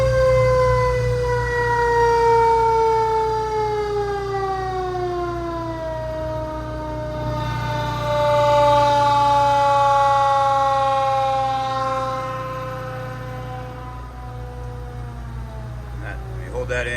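A 1991 Pierce Lance fire truck siren winds down in a long, steady falling wail, loud and close over a low engine hum, its pitch sliding lower as it spins to a stop.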